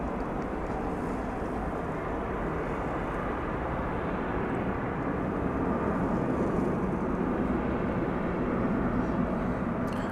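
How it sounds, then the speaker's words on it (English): A Boeing 747 airliner rumbles at DFW Airport at night, its engines producing a steady, broad roar that holds evenly throughout and swells slightly near the end, with no talk. "American Flight 767, which is a 747 aircraft"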